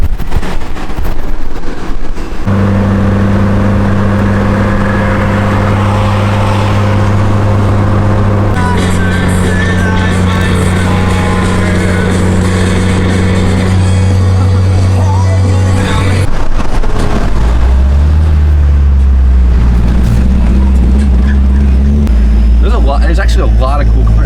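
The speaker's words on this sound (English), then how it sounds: "my car is squealing" Car engine idling and revving at a local car meet, a steady low drone rising in pitch in bursts, with a squealing drive belt heard as faint high whine, voices talking over it throughout.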